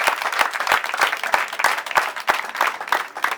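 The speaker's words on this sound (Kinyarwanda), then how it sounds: "Rero ndagira ngo muntize amashyi dushimire abarimu." A crowd of graduates and guests applauds at a vocational school ceremony, giving thanks to the teachers with steady, dense clapping at moderate loudness, alone with no voices over it.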